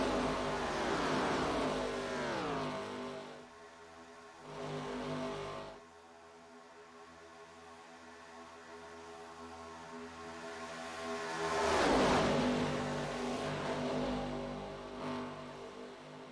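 Race cars in a Daytona racing video game roar past, engine tones rising and falling as they sweep by, with a steady whine between passes and no talking.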